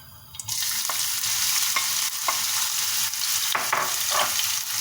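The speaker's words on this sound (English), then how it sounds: "In a pan, fry the onion." Onion hisses steadily as it fries in oil in a pan after a quieter opening moment, with occasional light scrapes and knocks of stirring.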